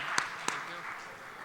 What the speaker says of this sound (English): May we please welcome Devang with a loud round of applause, ladies and gentlemen